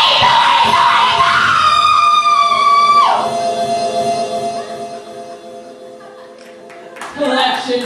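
A woman yells in a loud, sustained, rising cry that breaks off, followed by a quieter tonal drone and a brief renewed burst at the end.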